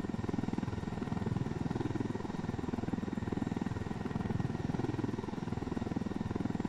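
In Ghost Recon Wildlands, a helicopter in flight gives off a continuous pulsing rotor drone, steady and fairly close, with no voices.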